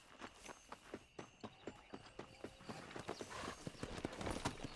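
Horse hooves clip-clop in a quick, steady rhythm while riding in the western game Red Dead Redemption, with footfalls close and quiet that pick up pace toward the end.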